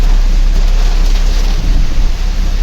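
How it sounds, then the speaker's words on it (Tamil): Heavy rain while driving on a forest route, a loud dense wash of noise drumming steadily with a deep rumble underneath. "செம்ம மழைங்க"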